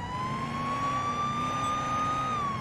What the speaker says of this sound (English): Sirens are on for no reason.